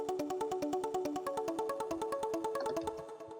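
A muted guitar preset plays a fast, even chord pattern of short plucked stabs in a chillstep arrangement, steady and fairly loud, fading slightly near the end, with no voices.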